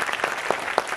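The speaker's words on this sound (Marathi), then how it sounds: "समीर रमेश सुर्वे यांचं कौतुक म्हणून एकदा जोरदार टाळ्या वाजवूया" Audience at a musical night event applauds with brisk, continuous clapping, a few individual claps standing out sharply over the dense patter.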